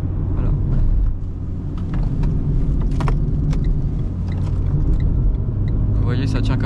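Steady low rumble of a Renault Clio 4 with a rough, continuous road texture from driving over cobblestones, a voice speaking over it.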